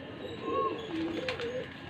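Pigeons of the Faisalabad variety coo softly in low, rounded calls close by over a steady background hum, with no talking.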